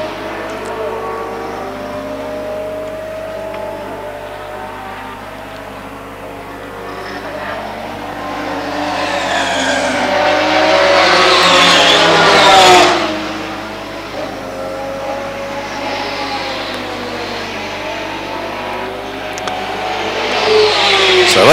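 Race cars in a North Island endurance race roar past on the track, one engine swelling to a loud close pass near the middle before fading, with another car rising again at the end.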